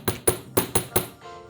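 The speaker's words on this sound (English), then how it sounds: "if you go around the edge with the chasing hammer side" A chasing hammer tapping metal on a steel bench block while smoothing edges in jewelry making: five quick, bright ringing strikes in an even rhythm, close and loud, with a faint metallic ring trailing after.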